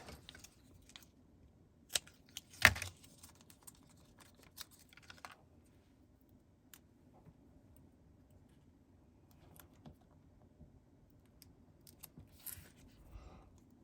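Scissors cutting a paper word strip, giving scattered, quiet close snips and small clicks, with one sharper louder cut early on and a steady low background hum.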